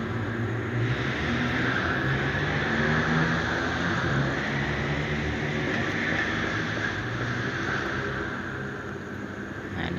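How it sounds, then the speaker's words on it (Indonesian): Loud, steady road traffic with motor and exhaust roar passes beside a workshop, a continuous dense rumble filling the whole stretch with no voices over it. "ini knalpotnya pada kenceng-kenceng banget ya, jadi harap dimaklumin aja ya kalau berisik sama kendaraan"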